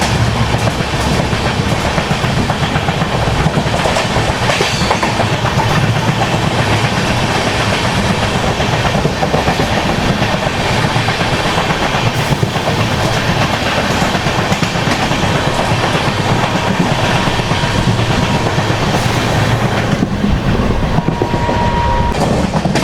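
A Duronto Express overtaking a Mahbubnagar–Visakhapatnam superfast train: a loud, continuous rumble of rolling coaches with clickety-clack of wheels on track, steady and close throughout, no voices.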